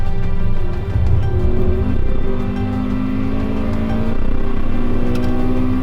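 A Honda Accord Euro R driven on a race track on Michelin tyres brakes hard and rides over a curb, the engine note steady and loud, droning and shifting pitch continuously inside the cabin without talk.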